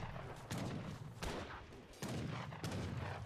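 Heavy cannons firing in a strategy video game, a series of booming blasts about every half second to second, loud and close, with no voices between the shots.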